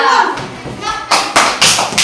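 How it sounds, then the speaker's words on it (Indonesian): A classroom of pupils clapping hands in a few short, loud bursts, right after a voice speaks. "Tepuk tangan."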